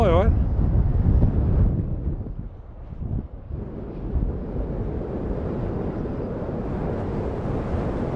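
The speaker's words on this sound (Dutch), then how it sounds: "Het waait hier altijd. Het waait hier echt altijd." Wind blows near a wind turbine as a low, gusty rumble buffeting the microphone, strongest at the start, then easing into a steadier roar.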